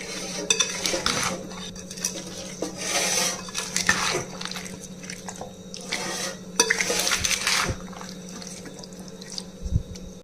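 Vegetable pickle pieces tossed with spices and lemon juice in a bowl: wet, squelchy mixing with clattering clinks of a utensil and dish in uneven bursts, close by.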